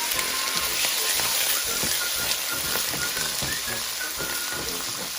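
Pork and taro roots sizzle steadily in a hot pan while being stir-fried, a continuous crackling hiss with scattered pops and scraping, close and fairly loud with little talk.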